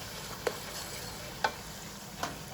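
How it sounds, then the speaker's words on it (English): Prawn paste being stirred into red curry paste frying in a pan for a Southern Thai fish curry: a low steady sizzle with a few separate scraping strokes of the spoon, close up and no talking. "now we are going to put the prawn paste in and mix with the curry paste"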